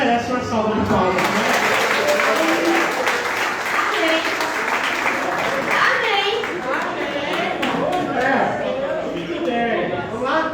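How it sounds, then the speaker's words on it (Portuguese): A church congregation applauds the children during a worship service, with steady, dense clapping that fills the whole stretch, and voices talk over it throughout. "Essas crianças merecem uma salva de palmas,"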